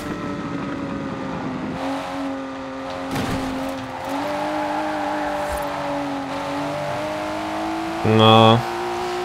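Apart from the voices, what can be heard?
Lykan Hypersport engine revving in video game Forza Horizon 4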